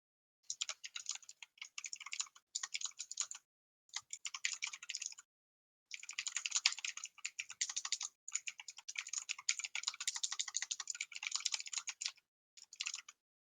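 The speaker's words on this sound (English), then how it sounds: "Stop typing to your buddy Liam in the Thrasios Tevish Discord." Someone types on a computer keyboard in quick bursts of clicky keystrokes, separated by short pauses, close and fairly quiet with no talking.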